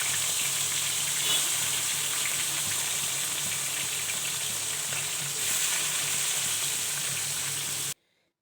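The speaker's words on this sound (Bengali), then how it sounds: "তেলটা ভালো করে গরম করে আমি মাছগুলো ভেজে নেব" Tilapia pieces frying in hot oil give a steady, dense sizzle that runs unbroken for about eight seconds and then cuts off sharply.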